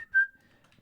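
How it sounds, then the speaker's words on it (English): Short whistle noise from a Build-A-Bear sound library: a single brief, clear tonal whistle that fades quickly into near silence. "I liked whistling, and they had a whistle noise, so I chose that."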